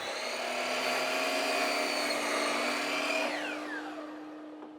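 A power saw cuts excess material off the rounded corners of a grilling prep station base, a loud steady whine that winds down toward the end.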